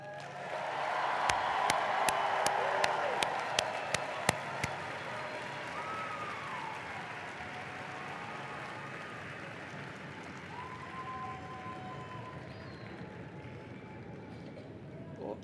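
Graduation audience at a winter commencement breaking into applause and cheering: dense clapping swells in the first few seconds with sharp claps standing out, then settles into a sustained crowd roar, with some voices audible.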